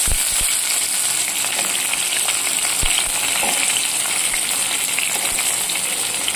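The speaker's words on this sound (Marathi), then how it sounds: "तर चला आपण ह्याच्यामध्ये तेल पण आता आपलं चांगलं गरम झालेलं आहे। तर अशा प्रकारे आपण हे वांगी त्याच्यामध्ये टाकून घेऊया।" Eggplants dropped into hot oil for tel vangi, producing a loud, continuous, dense crackling sizzle that holds steady throughout, with a few soft knocks near the start.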